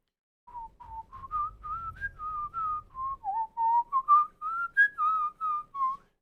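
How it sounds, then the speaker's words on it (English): One person whistles a wandering, improvised melody up close, a clear string of short, bright notes with small slides between them, alone with no talking. "Now I could just whistle randomly."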